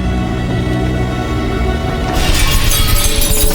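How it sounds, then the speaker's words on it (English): Ceiling glass shatters in a tense film ambush scene: a loud, bright crash of breaking glass bursts in over a dense, droning score and keeps scattering for over a second. "the ceiling glass shattered"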